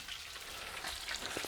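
Fish fillets frying in a pan of oil, giving a brief, soft, steady crackling sizzle up close, with no voices.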